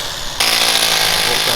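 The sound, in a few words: hammer drill running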